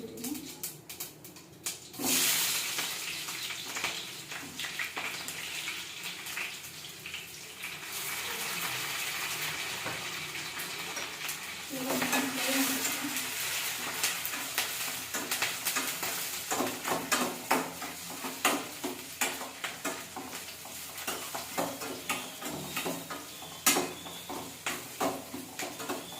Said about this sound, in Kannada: ಇವಾಗ ಈರುಳ್ಳಿ ಹಾಕ್ಕೊತಿದ್ದೀನಿ.